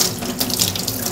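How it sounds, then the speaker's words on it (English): Cold water runs from a kitchen tap while an apple pie is being prepared, a brief, steady, close splashing stream with no voices. "just do a little splash of cold water"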